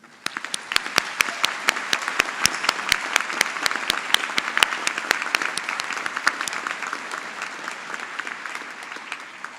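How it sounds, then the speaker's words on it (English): An audience at a doctoral hooding ceremony claps steadily and loudly for the candidates, with a few sharp individual claps standing out near the start before the applause settles into an even, sustained ovation. "please join me in giving this distinguished group of soon-to-be minted scholars a round of applause"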